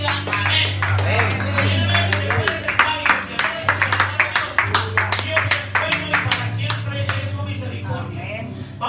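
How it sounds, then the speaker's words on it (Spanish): A church congregation claps during a service, a fairly loud, steady run of hand claps that carries on with strong sustained tones from music or voices beneath. "Denle un fuerte aplauso"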